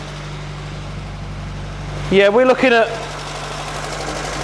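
Car engine idling fast after a carburetor rebuild, a steady low drone running throughout while someone briefly speaks over it.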